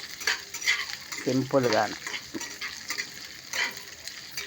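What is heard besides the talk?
tempering mustard seeds, cumin, curry leaves, dried chillies frying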